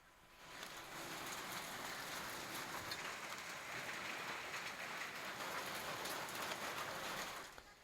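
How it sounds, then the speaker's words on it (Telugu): Heavy rain mixed with hail pours down steadily on a village, a dense continuous hiss that fades in, holds, and ends abruptly, with no voices. "నిట్టూరు గ్రామంలో రాళ్లతో వర్షం కురిసింది."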